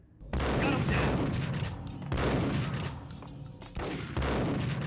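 Heavy gunfire from Max Payne, bursts of loud, dense shots in three long volleys separated by brief gaps, close and harsh.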